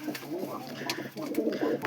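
Pigeons coo in low, throaty bursts during a fight between a mated pair, close and fairly loud, with faint voices in the background.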